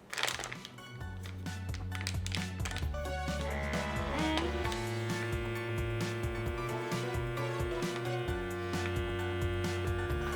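A Chef Preserve compact handheld vacuum sealer runs continuously, a steady droning motor hum with a whining pitch shift partway through, close and alone without talk.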